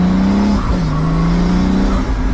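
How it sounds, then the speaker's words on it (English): Pagani Huayra AMG V12 hypercar pulling away in first gear, its roof scoop intake droning loudly right behind the cabin with a steady low engine tone that rises and shifts pitch, continuous and close. "that roof scoop noise right behind your head"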